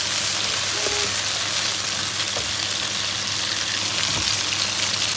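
Onions frying in a pan, a steady broad hiss of sizzling oil at moderate level with a few faint clinks, no talking.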